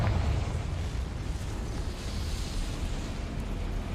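A Confringo fire spell explodes in the video game Hogwarts Legacy, giving a deep, rumbling blast that rolls on as a steady low roar for several seconds.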